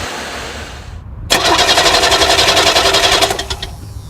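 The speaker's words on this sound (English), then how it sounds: "In most cases, it only takes a momentary crank for the engine to fire up." A truck's 12-volt starter motor cranks briefly with a loud whirring chatter, then the engine catches and runs with a steady rumble that fades toward the end; a quieter hiss precedes the start.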